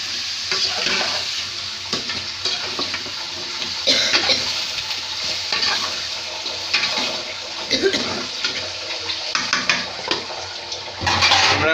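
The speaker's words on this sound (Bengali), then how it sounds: "ধুন্দুলগুলো আমরা ভালোভাবে কষাবো।" Sponge gourd being stir-fried in a wok with no added water gives a steady close hiss and sizzle, broken by repeated scraping and clattering strokes of a spatula.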